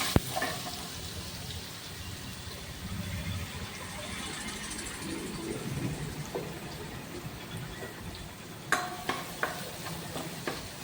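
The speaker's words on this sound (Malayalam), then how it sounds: "അത് ഒരുവിധം വറവ്, അതായത് ഒന്ന് ചുവന്ന് കളറാകുമ്പോൾ അതെ വെളുത്തുള്ളി 100 ഗ്രാം ഇട്ട് കൊടുത്തു" Ginger and garlic fry together in a pan with a steady, dense sizzle and occasional stirring scrapes and clicks toward the end, for a tender jackfruit roast.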